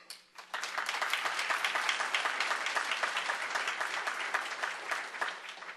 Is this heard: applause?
yes